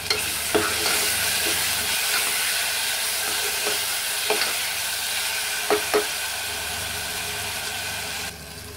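Ginger garlic paste with onion and tomato sautés in a pan with a steady sizzle broken by sharp spoon knocks and scrapes at uneven intervals, close and fairly loud, with no talking.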